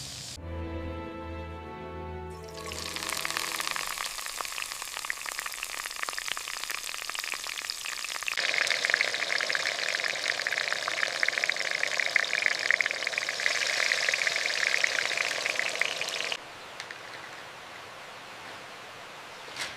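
Sausages fry in a hot pan with a steady, loud hiss and crackle that swells as they cook, then drops back to a softer sizzle near the end, with no talking.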